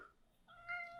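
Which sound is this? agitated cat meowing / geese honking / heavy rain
agitated cat meowing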